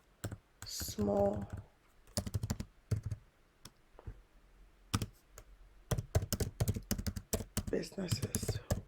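Typing on a computer keyboard, bursts of quick close key clicks and taps with short pauses, while a person speaks over part of it.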